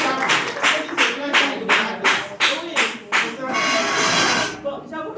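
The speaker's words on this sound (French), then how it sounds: "on l'applaudit." An audience applauds at a women's business workshop in Togo: a burst of rhythmic hand clapping from a nearby group that merges into steady applause, then fades out near the end.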